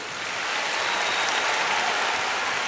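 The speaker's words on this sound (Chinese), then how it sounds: "请大家再一次用热烈的掌声多谢我们的香港管弦乐团" A concert hall audience gives sustained, dense applause after a Hong Kong Philharmonic Orchestra symphonic pop concert. The clapping is loud and steady and carries on throughout.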